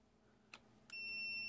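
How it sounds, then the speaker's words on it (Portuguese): An MT8134 multimeter gives two short clicks as its probe connects, then settles into a steady, high continuous beep, faint and close in a quiet room. "ele vai bipar porque não está selecionado para temperatura, medição de temperatura"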